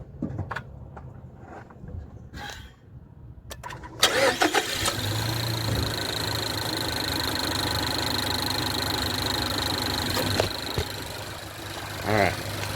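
A 2018 Mazda CX-3 engine cranks and catches, then settles into a steady idle with a faint ticking, heard close; quiet shuffling and a voice come before the start.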